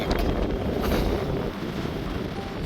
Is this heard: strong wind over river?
yes